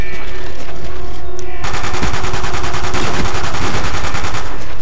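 Call of Duty Black Ops on Wii: rapid automatic gunfire in dense, loud bursts that fill the whole stretch, with a faint steady hum beneath.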